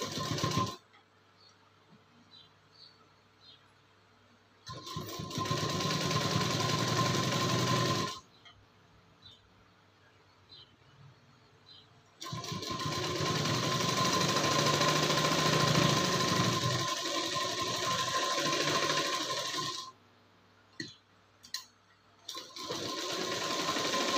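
A sewing machine stitches a prince cut blouse, running in two long steady whirring bursts separated by quiet pauses, then a few short quick stitches at the end, close and clear.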